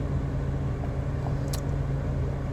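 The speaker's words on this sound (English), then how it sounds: "stop sitting here and letting my car run" A parked car's engine idles steadily from inside the cabin, a low, even rumble with a constant hum and no talk, broken only by a brief faint click partway through.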